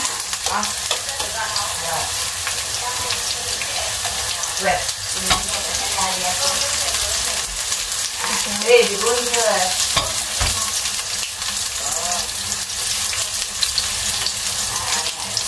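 Garlic sizzling and frying steadily in a hot pan for a broccoli stir fry, close and continuous with light stirring scrapes, with no talk.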